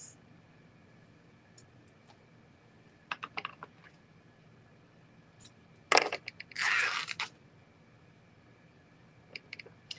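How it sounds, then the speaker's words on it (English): Muslin fabric being ripped by hand into strips, one long tearing rip after a sharp snap, with a few scattered softer rustles and pauses in a quiet room. "we're just going to tear some strips"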